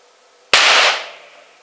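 A small pinch of potassium chlorate and sulfur mixture struck with a hammer sets off a single sharp, loud crack after a quiet lead-in, followed by a short decaying hiss and ring.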